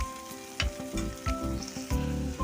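Tomatoes fry in a pan while corned beef is being cooked, with a close sizzle broken by several sharp stirring scrapes and clinks at irregular intervals and no voices.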